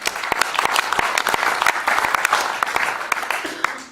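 Audience applause during a live card magic act in Rotterdam, a dense wash of clapping from a theatre crowd with sharp individual claps standing out, continuing steadily for several seconds.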